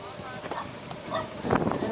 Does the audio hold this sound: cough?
no